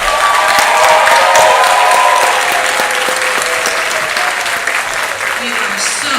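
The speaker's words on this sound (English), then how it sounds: "Let's everyone give them a round of applause." Loud, dense applause and some cheering from an audience at an elementary school moving up ceremony, a continuous roar of clapping sustained throughout with faint voices mixed in.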